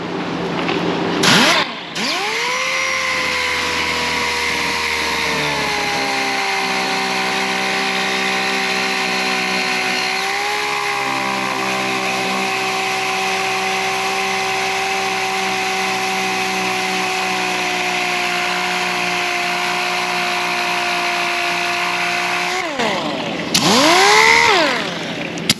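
A power sander running steadily on epoxy tie coat, spinning up with a rising whine, holding a loud continuous drone for about twenty seconds, then winding down and briefly restarting.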